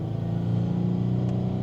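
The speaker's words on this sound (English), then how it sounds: "we can rev it up a little bit, let off" A Chrysler/Dodge/Jeep 3.6L engine runs steadily at close range, a low, even drone with a slight rise in revs and no voices.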